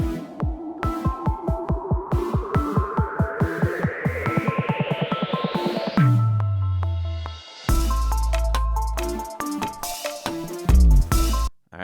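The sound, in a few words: beat instrumental with perfect timing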